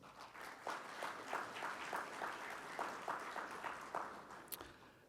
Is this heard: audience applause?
yes